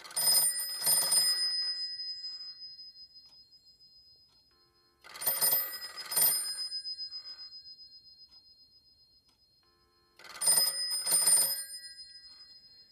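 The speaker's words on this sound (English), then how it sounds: "So you can hear that the bells work." A Western Electric 302 telephone's bells ring in three separate bursts, each a quick double ring followed by a lingering metallic decay and a pause. The ringing is loud, close and sounds alone.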